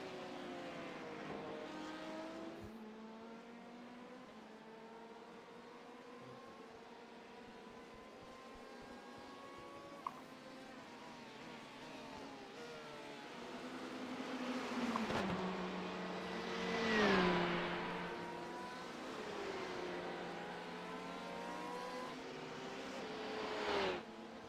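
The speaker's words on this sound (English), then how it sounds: "the car sounds like it's going to stall in the corners" A racing car engine in a racing video game at the Nürburgring whines through repeated gear shifts, rising and falling in pitch as it revs, fairly faint with no talking.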